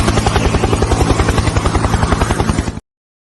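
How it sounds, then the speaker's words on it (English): Helicopter sound effect with a loud, close, rapid rhythmic thumping of rotor blades over a steady engine drone, continuing evenly before cutting off abruptly to silence. "I do believe his helicopter with him has landed."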